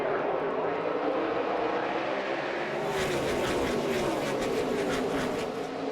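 NASCAR race cars roar off at the green-flag start in Texas, a dense, loud engine drone that swells and pulses as the field accelerates past, heard at a distance under crowd ambience.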